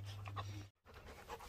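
Dogs pant in warm weather outdoors, soft rapid breaths close by and quiet, broken by a brief silent gap.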